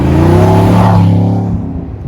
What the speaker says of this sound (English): This truck is completely stock except for an AFE power muffler delete.